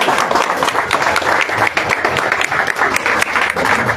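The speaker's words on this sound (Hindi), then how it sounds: "तालियों से स्वागत हो।" Applause from a crowd gathered at a Durga Puja pandal in Titagarh welcomes a local MLA, a dense, steady clapping close by that fills the whole stretch without letting up.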